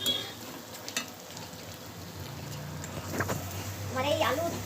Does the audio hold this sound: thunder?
no